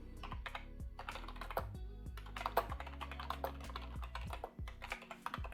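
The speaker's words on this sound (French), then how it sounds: "Donc c'est parti avec une première question que je vais taper ici." Someone types a question on a computer keyboard, a close, quiet run of rapid key clicks with brief pauses and no talking.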